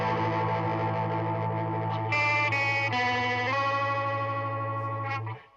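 Electric instrument run through a Warm Audio Mutation Phasor II six-stage phaser set to rate 6.5 and depth 3, sustained tones sweeping with a fast, pulsing, watery swirl, the pitch shifting midway before the sound fades out.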